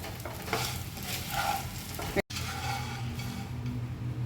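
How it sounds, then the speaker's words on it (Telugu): Bitter gourd fried with coconut chili powder sizzles steadily in a pan, while a spoon stirs and scrapes through it up close, with a brief cut midway. "కాకరకాయల పైన కూడా కారం బాగా పట్టేటట్టు ఇట్లా తిప్పుకుంటే కారం కాయ బాగా టేస్ట్ ఉంటుంది"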